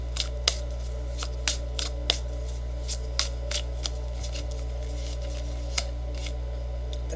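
Tarot cards are shuffled and drawn close by. Crisp snaps and flicks come in an uneven run over a steady low hum.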